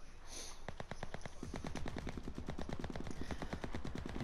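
Rapid machine gun fire in a shooter video game, a fast steady stream of shots that starts sparse and builds into a dense, continuous burst lasting several seconds, close and loud.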